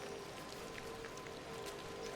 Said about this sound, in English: I really don't think that Mother Gothel would want to hang out in the rain